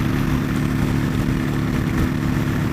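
A Honda Shadow motorcycle engine runs steadily close by, a loud, continuous low rumble with an even throb and no pauses.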